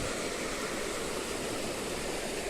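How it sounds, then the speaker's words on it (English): River water pouring over Campsie Weir in Omagh, a steady broad rushing wash of moderate loudness with no voices. "there's a weir over there, Campsie Weir"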